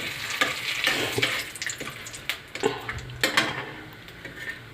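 Bay leaves, cardamom, cinnamon and cloves frying in oil in a pan for Bengali mutton kosha, a steady close sizzle broken by scattered sharp pops and spoon scrapes against the pan, with no voices.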